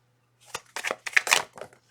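A tarot deck is shuffled by hand close up, a handful of brief papery riffles and rustles at low volume in otherwise quiet surroundings.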